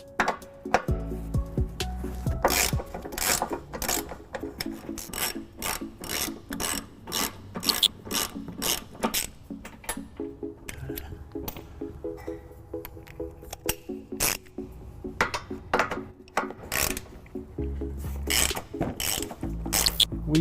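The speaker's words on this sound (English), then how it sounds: "We're going to use an 18mm socket and a 15mm socket" A hand ratchet with an 18mm socket backs bolts out of a 2008-2020 Dodge Grand Caravan frame during a trailer hitch install, giving a long run of rapid, close clicking with brief pauses between strokes.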